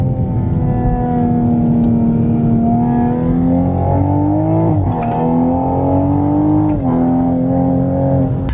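A modified turbocharged Toyota Supra of about 550 bhp, with a catalyst downpipe and full exhaust, roars steadily as it accelerates, the exhaust droning loud and close with the pitch climbing and briefly dipping between gear changes.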